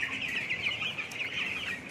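Broiler chickens and chicks kept on a raised floor cluck and chirp together in a steady, moderately faint flock chatter with no voices.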